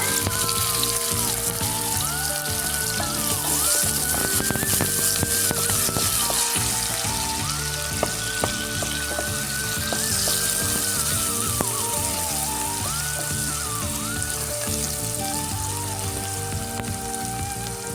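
Onion and cumin crackle and sizzle steadily in hot oil, a loud, continuous frying hiss with bursts of popping throughout.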